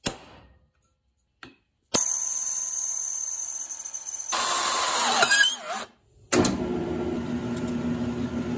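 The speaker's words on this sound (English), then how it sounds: "I am done drilling all my holes on the metal plate here, the steel plate." A power drill whines in bursts, pitch shifting as it bites into steel plate, with brief pauses between runs.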